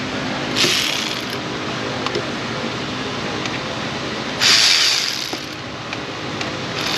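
A ratchet tightens a fastener during repair work on a Ford Escape, giving two short bursts of rapid clicking separated by quieter shop background.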